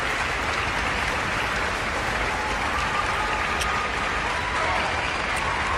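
Orchestra concert audience applauding loudly and continuously, a dense even roar of clapping with faint cheers, filling the hall from start to finish.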